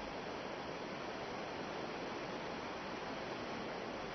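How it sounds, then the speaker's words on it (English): Spring water bubbling up at the base of a mountain in the karst terrain of Phong Nha Ke Bang National Park, Vietnam, heard as a steady, dense rushing wash of water with no pauses. "rainwater bubbles up at the base of the mountain."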